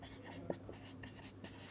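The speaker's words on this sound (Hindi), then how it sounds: "सबसे छोटी मकड़ी यहीं पे मैं लिखता हूँ" Quiet scratching of writing on a board during a Hindi general-knowledge lesson, with short, faint strokes and a slightly sharper tap midway.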